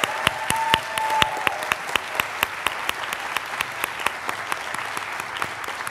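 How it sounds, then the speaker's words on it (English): Steady applause from an audience at a Master of Engineering hooding ceremony honoring biomedical engineering candidates, with a few sharper individual claps standing out above the sustained clapping throughout. "Let's have another round of applause for our biomedical engineering candidates."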